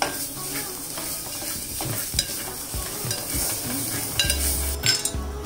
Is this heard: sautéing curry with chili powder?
yes